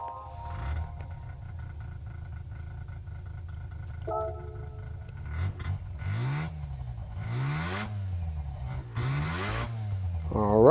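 A 1970 Mazda RX500 rotary engine starts up and revs repeatedly in Gran Turismo 7, rising and falling in pitch with a buzzy, high-revving character, loud and close.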